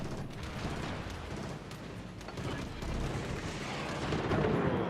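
Main guns of the Japanese cruiser Mogami in World of Warships booming out a salvo, a dense rolling rumble of heavy naval gunfire that swells toward the end, no talking.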